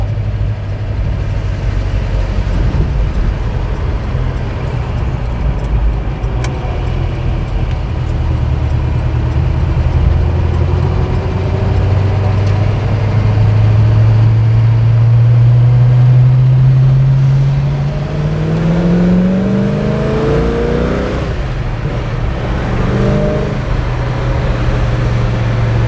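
Classic K-code Ford Mustang driving along with its engine note droning steadily, then rising in pitch as it accelerates, loud and close throughout with no talking.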